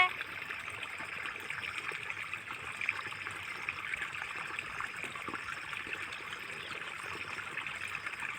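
A steady, gentle rush of irrigation water flowing through a field channel on a rose farm, trickling continuously at moderate distance, with no voices.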